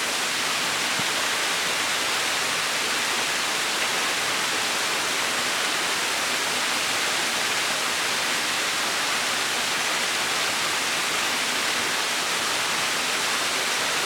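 Waterfall at Wentworth Falls roaring as a steady, even broadband rush of falling water, close and continuous throughout with no voices.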